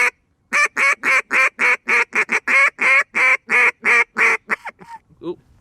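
Cajun squeal quacking blown on a Buck Gardner or Zink duck call: a rapid run of about fourteen loud, close, sharp nasal quacks in a steady driving rhythm, trailing off into a few softer, broken notes at the end.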